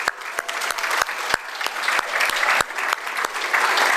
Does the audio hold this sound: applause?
yes